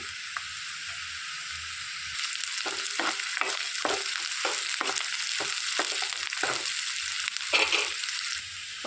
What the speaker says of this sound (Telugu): ఒక కరివేపాకు కూడా వేసుకొని మంచి ఫ్రై చేసుకోవాలి